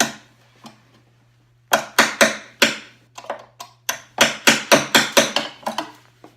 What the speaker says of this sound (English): I got it drilled out, so I'm just going to tap it through with a punch.